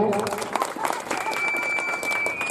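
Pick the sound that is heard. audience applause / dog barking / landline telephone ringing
audience applause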